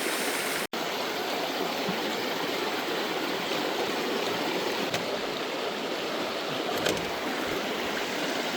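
Creek water rushing steadily and fairly loud throughout, a broad continuous wash during gold dredging, with one brief sharp click early on and no voices.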